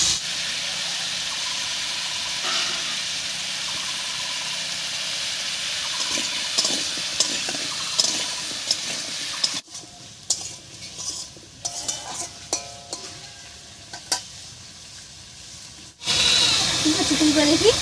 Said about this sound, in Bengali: এই অবস্থায় পেঁপে আর আলুটা একটু ভাজা ভাজা মতো করে নেব।